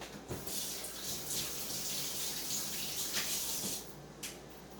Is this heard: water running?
yes